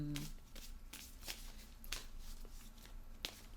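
A deck of playing cards being shuffled by hand, soft riffling and flicking sounds close by at low volume, with a brief voice at the very start.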